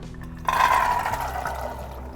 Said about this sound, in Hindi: 4 से 5 कप डालेंगे पानी।